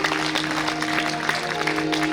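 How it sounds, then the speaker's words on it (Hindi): A large devotional crowd at a Bhagwat Katha recitation claps loudly with raised hands, a dense, continuous roar of applause filling the space for a couple of seconds, with a droning tone underneath. "हाथ उठा करके जोरदार ताली बजाइए"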